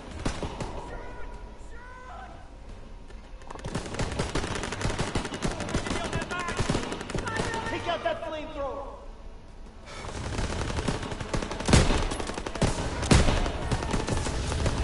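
Bursts of game gunfire crack repeatedly through a live-streamed shooter session with snipers on a bridge and a nearby building, volleys of shots loud and dense against a voice talking throughout.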